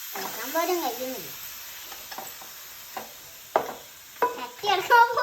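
Chicken coated in masala is stirred in a frying pan, giving intermittent scraping and sizzling bursts that grow louder toward the end, while voices talk over the first part.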